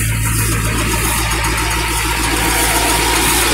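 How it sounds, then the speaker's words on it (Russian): GAZ-SAZ-35072 dump truck on a GAZ-3307 chassis working its hydraulics: a loud, continuous engine drone with mechanical whine, close to the microphone and steady throughout. "Гидравлика работающая, все опускается, поднимается."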